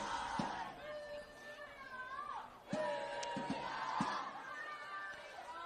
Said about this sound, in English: the Spirit cheer squad have